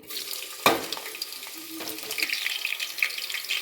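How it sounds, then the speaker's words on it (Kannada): Chillies drop into hot oil with a sharp splash, then a steady bright sizzle of frying continues close by, with faint kitchen clinks. "ಎಣ್ಣೆ ಕಾದ ನಂತರ ಮೊದಲು ಮೆಣಸಿನಕಾಯನ್ನು ಹಾಕಿ"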